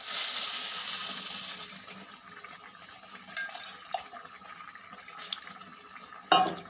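Boondi is tipped into boiling water for a dry prawn curry, making a short rattling splash and patter against a steady bubbling hiss. A second brief splash follows near the end, and nobody speaks.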